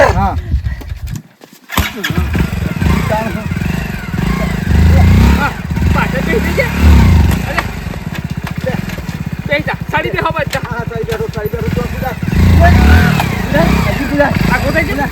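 A motorcycle engine runs loudly and steadily after a brief start, its throb mixed with shouting voices on a road.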